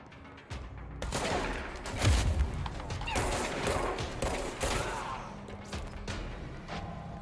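Enemy gunfire aimed at the player in a video game comes as a series of loud, irregular shots and impacts, with mechanical clatter in between.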